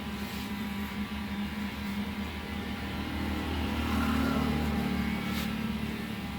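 An electric hair trimmer buzzes steadily through a men's trimmer haircut with a mix of comb guards, a continuous mid-pitched motor drone that swells slightly toward the middle and carries on without any talking.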